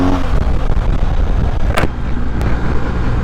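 A BMW R 1250 GS Night Black motorcycle accelerates hard for a wheelie, a loud, close engine roar with a brief sharp burst partway through and no talk.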